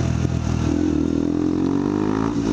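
KTM Duke 200 single-cylinder motorcycle fitted with an Arrow performance exhaust, running steadily close by with a rising engine note and a slight rev climb partway through, loud and continuous with no talking.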